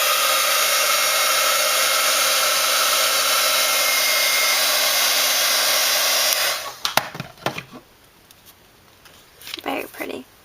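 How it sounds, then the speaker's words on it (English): Heat gun blowing a steady loud whoosh over clear embossing powder on a Christmas card, running for about six seconds before cutting off, followed by scattered soft taps and handling sounds. "Use the heat gun."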